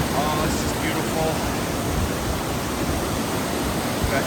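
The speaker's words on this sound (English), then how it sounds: "This little waterfall zone. Meandering all the way down." A small mountain waterfall on a wilderness hiking trail near alpine lakes gives a steady, dense rush of falling water close by, continuous and loud throughout.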